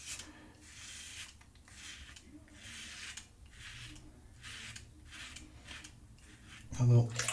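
A Leaf pivoting-head razor scrapes across a scalp during a head shave, a series of rhythmic rasping strokes close to the microphone, each lasting under a second, ending with a brief louder knock.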